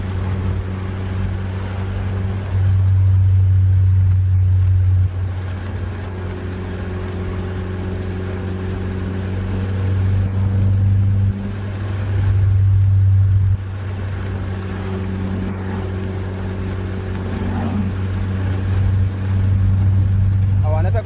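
A car engine hums while cruising through city streets, a steady low drone that swells in louder pulses every few seconds as the throttle is pressed, with some talk over it.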